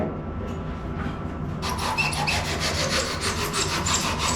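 A snapped longboard repair is scuffed and sanded by hand before the Q-cell bog goes on. After a quieter start, a steady, close scratchy rubbing runs in quick repeated strokes.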